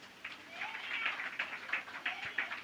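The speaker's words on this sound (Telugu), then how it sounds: "చప్పట్లు కొట్టండి." A church congregation claps together in a quick, steady rhythm of sharp bright hand claps at moderate loudness, heard from a middle distance with low room noise.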